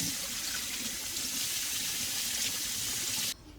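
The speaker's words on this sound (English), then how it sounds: "And I'm just going to rinse it out." Running water rinsing bleach out of hair at home, a steady close splashing wash that cuts off abruptly near the end, with no talking.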